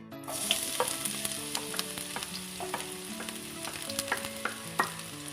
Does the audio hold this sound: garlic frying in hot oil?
yes